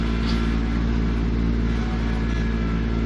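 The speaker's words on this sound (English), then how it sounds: "Even turning the tractor around right here is kind of a small miracle." A tractor engine idles and works close by, a steady low rumble with a firm rhythmic pulse as the machine turns around on a narrow homestead trail.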